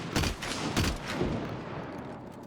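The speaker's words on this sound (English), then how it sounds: "There is also a new sound effect for shooting slugs in the shotguns." Shotgun slug shots fired in the online shooter Hunt: Showdown, with three heavy booming blasts about half a second apart followed by a long reverberant tail.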